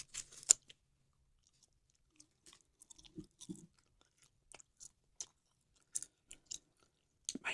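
Gum chewed close to the mic in an ASMR setting: sparse, soft wet clicks and smacks scattered through near-silence, with a few slightly louder snaps.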